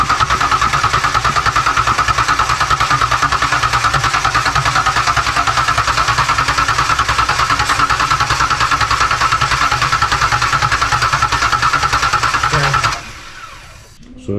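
A rebuilt Ford Ranger 4.0 engine runs steadily on its first start, a loud, close, even drone that holds for about thirteen seconds with no talking, then cuts off abruptly into near silence.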